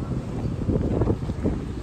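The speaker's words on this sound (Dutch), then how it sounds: "Het is te veel wind om verstaanbaar te zijn denk ik" Gusty wind buffets the microphone outdoors in Bruges, producing a loud, rumbling low-frequency roar that swells and fades without letting up.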